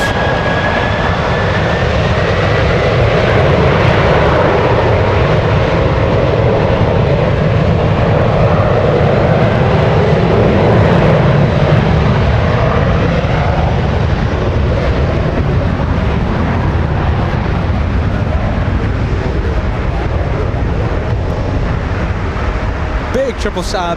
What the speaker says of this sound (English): United spooling up. There it is, taking off.